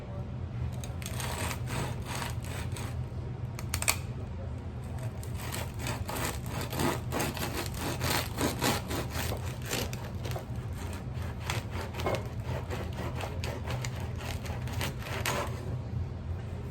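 A knife saws back and forth through a crusty loaf of long-ferment no-knead bread, giving a steady, close scraping and crackling crust noise for the whole stretch, with no voices over it.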